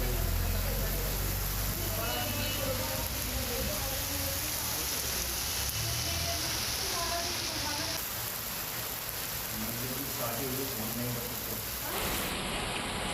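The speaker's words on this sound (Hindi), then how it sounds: "यहाँ बारिश नजर आ रही है।" Rain falling steadily in Bhiwadi, Rajasthan, a continuous broadband hiss that holds throughout, with a voice talking over it.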